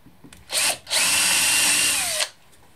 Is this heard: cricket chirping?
no